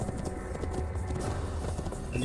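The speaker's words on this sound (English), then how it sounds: "In the Kingdom, I'm always going to be galloping" A horse gallops in the Assassin's Creed video game, its hooves pounding in a fast, steady, loud clip-clop that runs without a break under a rushing background roar.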